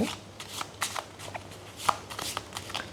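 Tarot cards from a 32-card deck are shuffled by hand in a quiet room, a soft series of quick riffling flicks and taps over about three seconds, close and faint, with no talking.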